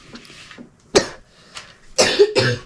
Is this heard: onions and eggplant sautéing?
no